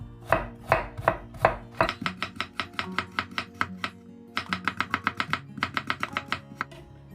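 A knife chops vegetables flat and thin on a cutting board for yeolmu water kimchi, a steady run of close, crisp taps with a few heavier strikes first, then quick even bursts with a short pause midway.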